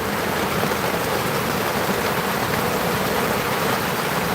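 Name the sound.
rain falling outdoors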